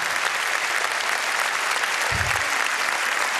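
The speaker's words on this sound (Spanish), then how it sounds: "Así que un aplauso para todos ustedes, fuerte." Applause at a breast cancer charity gala, a sustained, even roar of many hands clapping at full strength for the whole stretch, with a brief low thump midway.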